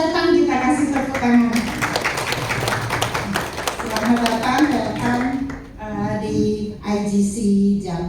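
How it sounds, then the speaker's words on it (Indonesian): A church congregation claps to welcome first-time visitors at a worship service, a dense ongoing patter of hands mixed with voices and talk throughout, fading briefly before picking up again. "Ya, selamat datang, kita kasih tepuk tangan."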